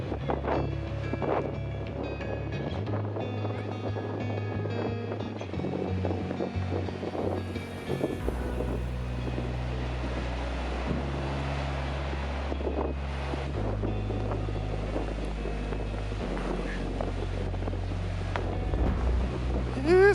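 Wind blasts and roars against the microphone on a snowy coast during a heavy snow warning, with waves crashing and low rumbling surges under it, loud and continuous for about twenty seconds.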